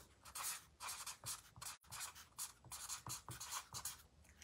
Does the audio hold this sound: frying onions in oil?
no